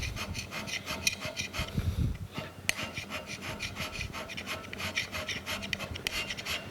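Hand scraper rasping across a camelback straight edge held in a vise, laid down in a crisscross pattern; rapid, regular close strokes repeat steadily, loud and rough with no voices.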